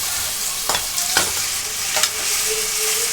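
Tomatoes are sautéed in hot oil for a seer fish curry: a steady, bright sizzle runs throughout, broken by three distinct spoon strokes against the pan.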